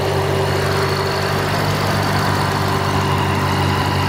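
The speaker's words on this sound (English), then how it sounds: "Especially combined with that whine of the supercharger." A 2007 Ford Mustang V8 idles steadily, its low engine rumble topped by a thin, constant supercharger whine, heard up close and alone throughout.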